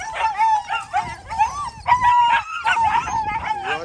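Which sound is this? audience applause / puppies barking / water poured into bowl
puppies barking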